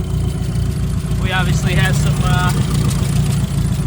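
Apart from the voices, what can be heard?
rough idling turbocharged Mazda Miata engine shaking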